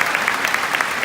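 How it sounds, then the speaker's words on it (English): Brief burst of audience applause at a Scentsy Family Reunion event with Vinh Giang, steady dense clapping filling the space without pause. "we'll give her a big round of applause please"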